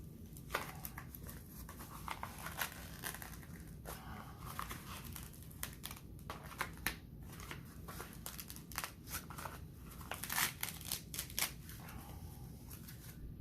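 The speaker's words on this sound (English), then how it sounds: "I want to take the tape off of it that I put on there." Tape being pulled and peeled off a worn Garrett metal-detector digger scabbard, a steady run of crackling, ripping and crinkling bursts close up, with sharper tears scattered through.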